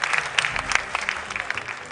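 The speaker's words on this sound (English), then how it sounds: "Round of applause, please." Audience clapping at a school quiz competition, a steady, close burst of many hands with sharp individual claps standing out, lasting about two seconds.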